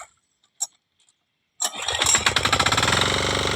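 A tractor is kick-started for ploughing: a couple of faint knocks and taps, then the engine catches and settles into a loud, rapid, rhythmic chugging close by.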